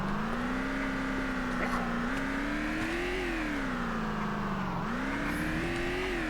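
A car engine drives over rugged terrain in the video game VEIN, a continuous mid-pitched motor drone that rises and falls in pitch as it revs and eases, steady and loud throughout.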